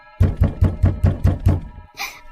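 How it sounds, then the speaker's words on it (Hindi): Six sharp raps knocking on a window, evenly spaced and loud, close up, ending in a brief high rattle. "अजी देखो फिर से कोई खिड़की खटखटा रहा है"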